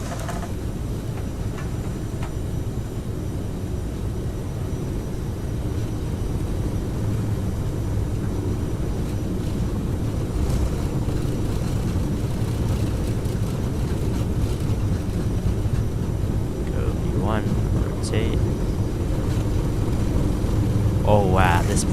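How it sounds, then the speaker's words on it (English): A CRJ jet airliner taking off from Boston in Microsoft Flight Simulator: a steady, heavy engine roar that slowly builds and stays loud throughout, with a person talking over it at times. "Alright, now we're clear for takeoff."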